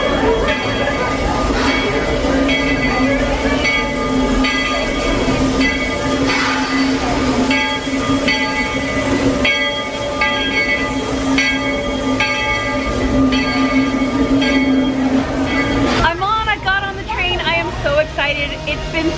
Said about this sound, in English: we are back on the Walt Disney World Railroad